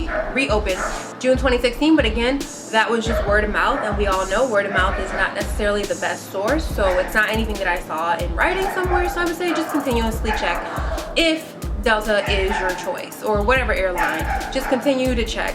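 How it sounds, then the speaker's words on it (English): A neighbor's dog in New York City barks repeatedly in a steady string of yips and woofs, with a few whimpers, while a person talks continuously over it. "sorry for the barking, y'all, but this is again New York City and they crazy"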